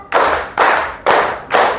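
Four evenly spaced hand claps from a children's counting game, loud and close, each a crisp smack with a short decay and no voices between them.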